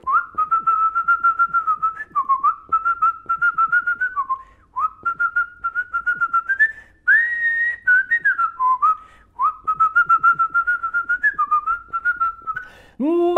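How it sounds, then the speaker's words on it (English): A person whistles a melody alone, bright tuneful phrases in quick repeated bursts with short pauses between, close and fairly loud. "Let's try whistling."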